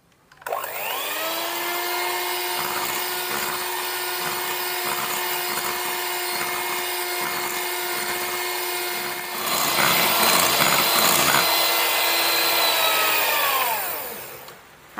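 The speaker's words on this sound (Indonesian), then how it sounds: "Ini kita mau lanjut lagi mengocok sampai kental berjejak." An electric hand mixer whips egg yolks for a soft cake batter, a steady high whine with strong harmonic tones that runs continuously, rising slightly louder near the end before winding down.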